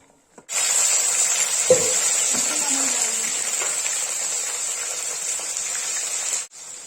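Hot fried paneer cubes dropped into cold water give a steady hiss and fizzing sizzle, with a brief splash near the start, continuing loudly and close for several seconds before cutting off.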